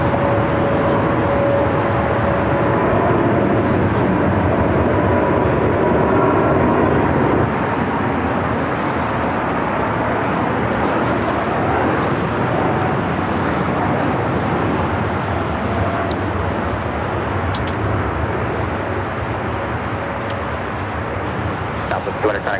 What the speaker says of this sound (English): we have our first takeoff happening right now. Air Premier Flight 102 headed out to Seoul on the Dreamliner